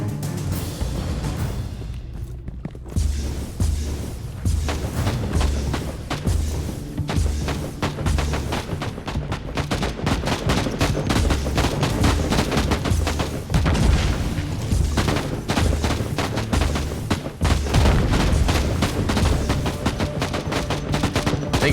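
Continuous, loud video game combat from Inquisitor Martyr, with dense gunfire and booming grenade explosions thrown by an enemy commander rolling on without a break.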